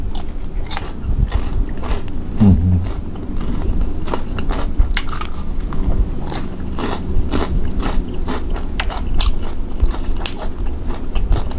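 Crunchy bites into crispy freshly fried popcorn chicken dipped in sauce, loud and close, with dense crackling chews repeating steadily throughout and no talking.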